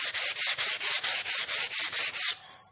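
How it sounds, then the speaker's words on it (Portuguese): Sandpaper rubs back and forth by hand over painted wood on a child's bed, about ten steady, even strokes in a brisk rhythm, close and clear, then stopping. "Então eu vou lixar aqui, fazer a aplicação da lixa."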